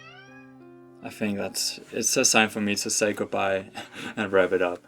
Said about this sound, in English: If that's the cat outside my door right now.